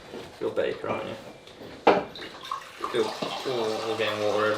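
Water gushes from a tap into a bathtub, a steady splashing stream that grows toward the end, while people talk and laugh loudly over it and a bump or clatter sounds midway.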